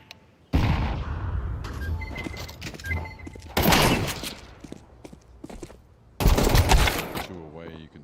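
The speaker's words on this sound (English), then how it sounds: "Grenade out." Grenade blast and bursts of gunfire in a Counter-Strike match, with loud close explosions and rattling shots separated by quieter stretches.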